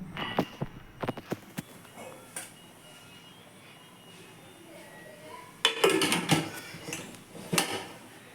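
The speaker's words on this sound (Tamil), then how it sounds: "குக்கரை மூடி போட்டு மூடிக்கலாம்." A pressure cooker lid is set on and closed while biryani is made at home, giving sharp metallic clanks and clicks in two close, loud clusters with a quieter pause between them.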